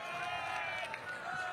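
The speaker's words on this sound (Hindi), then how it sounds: "तालियां जोरदार होनी चाहिए।" A crowd in Ayodhya applauds Kumar Vishwas as he is welcomed. The clapping is faint and distant but sustained, forming a continuous even wash with no clear individual claps.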